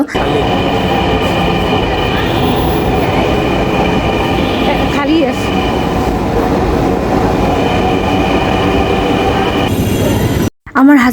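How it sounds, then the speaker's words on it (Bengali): A metro train arrives at a station platform, rumbling loudly and close by, with squealing wheels and a constant mechanical roar, before cutting off abruptly near the end. "আমি দাঁড়াতে দাঁড়াতে একটা ট্রেন চলে আসলো"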